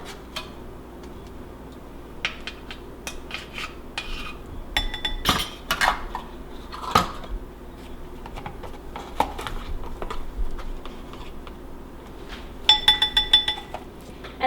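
Metal teaspoons clink and tick against containers and a bowl while baking soda and baking powder are measured for poppy seed protein muffins; scattered sharp, light taps and chimes over a quiet kitchen background.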